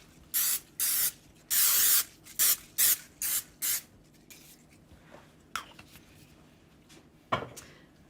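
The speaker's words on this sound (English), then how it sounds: "And now grease all of your pans so that the cakes don't stick." Several short bursts of cooking spray hiss in quick succession as cake pans are greased, loud and close, followed by quieter rustling and a sharp knock near the end.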